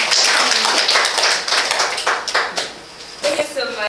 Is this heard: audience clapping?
yes